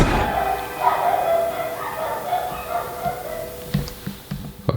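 Dogs barking and yipping indoors in a Polish home, a few sharp barks and whimpers scattered over a rumbling, mixed background with a voice faintly in the mix.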